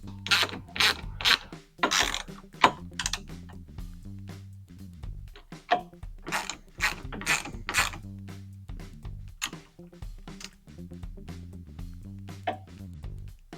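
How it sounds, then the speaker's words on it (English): Tightening the lower brackets of a Bent Metal off-road glass windshield with a 5/32 Allen wrench and a 7/16 tool: a close run of sharp ratcheting clicks in irregular bursts over a steady low hum. "Using a 5/32 Allen wrench and a 7/16, you can tighten these lower brackets first."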